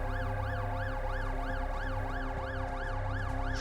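Wailing ambulance siren from a video game, a steady rising-and-falling yelp repeating about every third of a second, loud and close, sounding alone without any talk.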